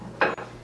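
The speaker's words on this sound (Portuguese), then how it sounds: "E eu vou utilizar um prato quadrado." A square plate set down on a table decorated for Christmas, one short, soft clink of dishware in a quiet room.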